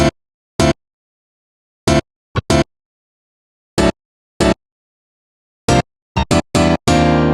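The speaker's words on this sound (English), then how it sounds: "the main sound, which is the M1 piano lead" Bright, unprocessed M1 piano synth lead notes struck in short separated hits with silences between, ending in a quick run of notes, dry and upfront.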